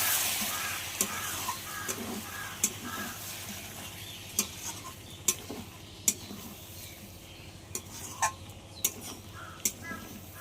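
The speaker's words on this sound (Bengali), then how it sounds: "আবার একটু ভালো করে কষিয়ে নিতে হবে।" Potatoes stir-fried with chilli, coriander and cumin powder in a pan, a faint sizzle under repeated sharp taps of a spatula against the pan at an irregular pace.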